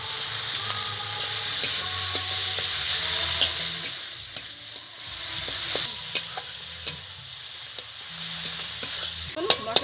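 Chopped tomato fries with spices in a pan, a loud continuous sizzle with rhythmic spatula scrapes and taps repeating against the metal.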